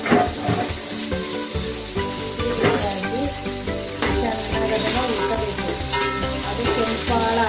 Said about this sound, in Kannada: ಕಾದಿರೋ ಎಣ್ಣೆಗೆ ಈರುಳ್ಳಿ ಹಾಕ್ತಾಯಿದ್ದೀನಿ.